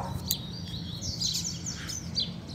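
Double-collared seedeaters (coleiros) singing and fighting, a loose male going wild with a female nearby: bright repeated chirps and warbled phrases, fairly close, over a low background hum.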